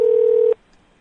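A single steady telephone tone, like a dial or touch-tone beep, holds loud for about half a second and then cuts off into near silence.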